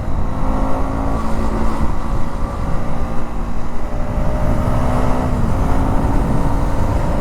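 A KTM Duke 125 motorcycle engine drones loudly and steadily while ridden on the road, its pitch rising gradually with wind rush and no talk.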